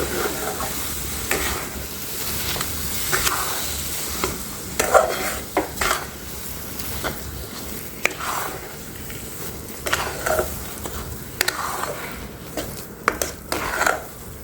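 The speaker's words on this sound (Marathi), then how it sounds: "हे साखर चांगले परतून घ्या." Sugar being sautéed and stirred in a pan for sheera, part of a fasting thali, gives a soft, steady sizzle broken by repeated scraping stir strokes and faint utensil clinks, close up, with no talking.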